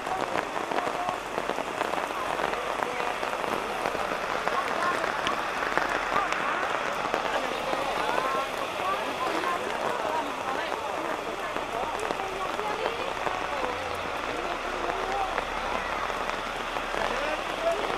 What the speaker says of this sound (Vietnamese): Trời mưa to rồi các bạn.